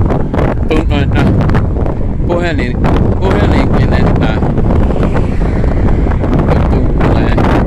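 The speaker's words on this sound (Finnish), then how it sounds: "Ei edes musiikkiakaan kuulu kunnolla, kun näin pahasti tuulee." Strong wind buffets the microphone on an evening walk outdoors, a loud, constant roaring rumble throughout, with a person talking under it and faint music barely audible.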